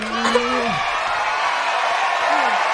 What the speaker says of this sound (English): We queuing up the cheering sound effects right now